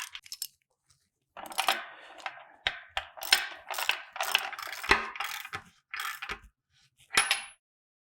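A socket wrench ratchets as it tightens bolts on a Ford equipment connection fitting, close and crisp, with short bursts of rapid clicking separated by brief pauses.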